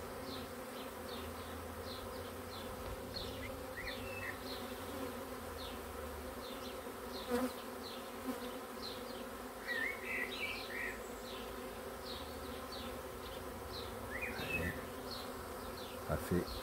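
A honeybee swarm arriving and settling into a hive, heard as a steady, dense buzzing drone that runs throughout, with a few nearer, louder passes of individual bees and no talking.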